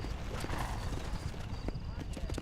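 In the video game Red Dead Redemption on PC, a horse's hooves clip-clop in a steady, close rhythm over a low background rumble, with a brief whinny.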